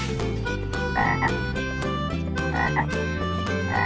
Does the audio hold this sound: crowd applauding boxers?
no